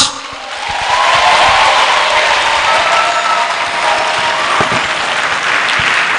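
Sustained applause from a large audience, steady and loud throughout, with dense clapping filling the whole stretch.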